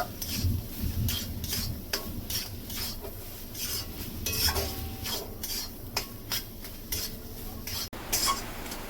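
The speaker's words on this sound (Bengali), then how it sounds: "এবার সুন্দর করে মশলার সঙ্গে ছানাটা সুন্দর করে কষিয়ে নেব" About 200 grams of chhena is sautéed with spices in a pan for potol dorma filling, giving repeated rhythmic scraping strokes of a spatula against the pan over a soft sizzle, with occasional metallic clinks, close and alone.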